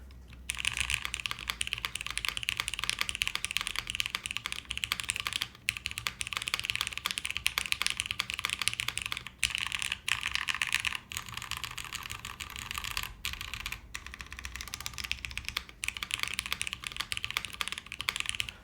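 Continuous rapid typing on a top-mount plateless mechanical keyboard, close and steady, with a deep, full clacking of keys and only brief pauses.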